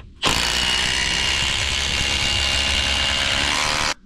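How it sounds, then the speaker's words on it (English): A power tool drives structural screws into 4x4 lumber, one steady whirring run lasting nearly four seconds, loud and close with no talk over it. "Structural screws are going in."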